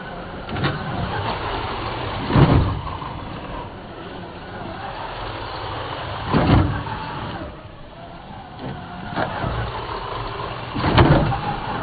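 Rebel RC Rebelcon radio-controlled car driving, its electric motor whining steadily with several louder surges as it accelerates hard, heard alone with no talk.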